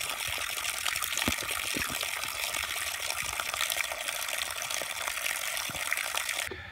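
Spring water flowing steadily along an Appalachian Trail route in Shenandoah National Park, a continuous bright gushing trickle, close and even throughout with no talk.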